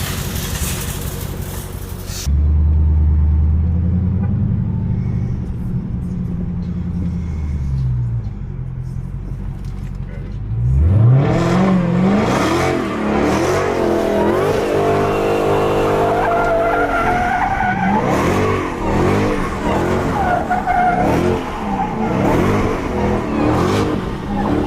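A Dodge Hellcat engine rumbles at idle, then revs hard and the car slides, with long rising tire squeals and a roaring exhaust that stays loud and close.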